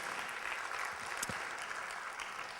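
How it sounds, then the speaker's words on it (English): Audience applause at a conference lunch in a Singapore ballroom, a steady, fairly faint wash of many hands clapping at a distance, continuous for the whole stretch with no voices over it. "Can we give them a big round of applause, please?"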